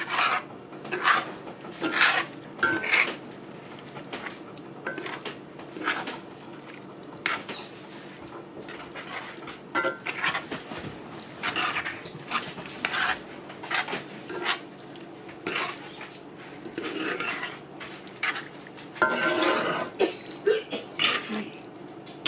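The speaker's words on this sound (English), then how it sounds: "So I want to gently mix those up." Cooked noodles gently mixed in a bowl with the other tuna casserole ingredients, giving repeated wet rubbing and scraping strokes in an uneven rhythm, close and moderately quiet.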